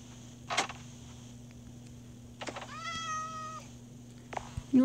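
Minecraft cat meowing once in a drawn-out, wavering call near the middle, alone against a steady game background hum, with brief clicks and taps before and after.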